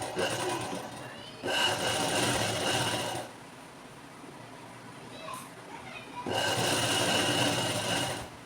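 A sewing machine stitches a zip onto fabric in two separate bursts of close, steady whirring, with a quiet pause between them.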